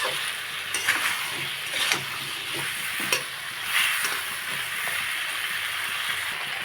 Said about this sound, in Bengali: খুব ভালো করে কষিয়ে নেব মশলা বেগুন একসাথে